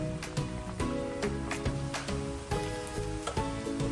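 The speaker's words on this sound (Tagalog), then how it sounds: "I-fry natin yan hanggang sa mag golden brown yan." Tofu frying in hot oil, a steady bright sizzle with bubbling running continuously at close range, with faint rhythmic clatter over it.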